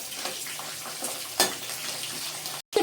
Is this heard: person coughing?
no